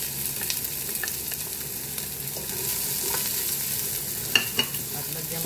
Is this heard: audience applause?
no